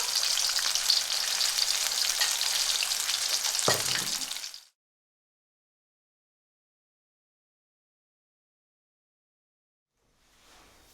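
Leftover pakora batter mixed with green chillies frying in hot oil, a loud steady sizzle for about four seconds that cuts off abruptly into silence, with faint sizzling returning near the end.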